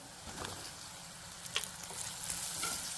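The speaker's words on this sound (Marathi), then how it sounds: "मसाले तेलात चांगले परतून झाल्यानंतर त्यात आपण आधी चिरून ठेवलेले कच्चे टोमॅटो घालून घेणार आहोत" Raw tomatoes fry in spiced oil for a Khandesh-style vegetable dish, giving a steady, close sizzle with light crackle and a few stirring scrapes, with no talk.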